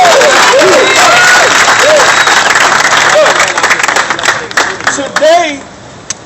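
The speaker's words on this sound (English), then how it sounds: "give yourselves a round of applause" A crowd claps loudly and steadily with some cheering mixed in, then the applause thins out and fades toward the end.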